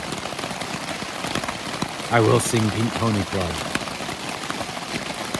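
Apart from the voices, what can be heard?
rain falling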